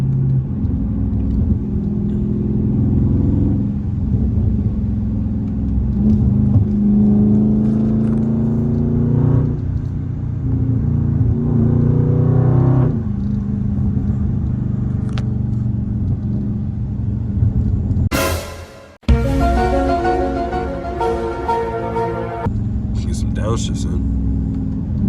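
A Dodge SRT fitted with an aftermarket air intake rumbles and accelerates through gear shifts with rising and falling engine tones, a brief dropout, then revving under a talking voice.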